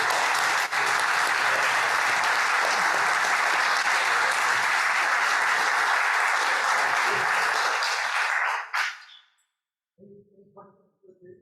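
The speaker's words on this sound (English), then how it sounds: "Let's have another round of applause" Loud, sustained applause from a large lecture audience, steady for about eight seconds before fading out abruptly, followed by a brief moment of quiet and a few faint sounds.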